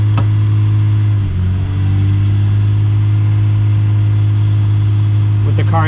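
A 1994–2003 Toyota Camry engine hums steadily from inside the car, with a strong low drone and a brief shift in pitch early on, while someone talks over it.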